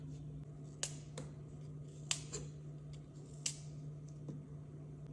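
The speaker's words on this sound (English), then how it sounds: "we'll cut an apple" A knife cuts into an apple in a home kitchen, a handful of sharp, isolated crunching snaps spaced a second or so apart against a steady low hum.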